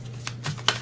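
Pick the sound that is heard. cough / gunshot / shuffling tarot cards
shuffling tarot cards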